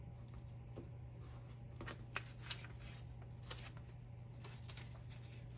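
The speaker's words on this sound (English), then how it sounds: "I take the piece of graph paper and I fold it in half this way." A sheet of graph paper being folded in half at a craft table, soft crinkly rustling with a few brief crisp snaps, faint and close, with no voices.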